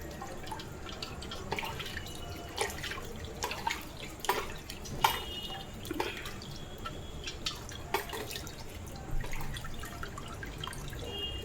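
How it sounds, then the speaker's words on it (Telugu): Water splashes and drips faintly as an item is rinsed clean by hand, with soft irregular trickles and small splashes over a quiet hiss, and no voices. "ఇప్పుడు ఇదే వాటర్తో ఒకసారి క్లీన్ చేస్తాను"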